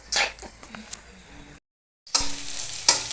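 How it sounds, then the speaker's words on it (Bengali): Sliced onions hit hot oil in a pan as curry of water lily stems is started, a sharp crackling sizzle with stirring scrapes, broken by a brief silent gap before the frying resumes. "শাপলা রান্নার জন্য তেলের মধ্যে পেঁয়াজ দিয়ে দিলাম"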